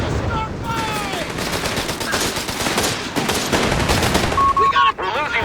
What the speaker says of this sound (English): Okay, start firing!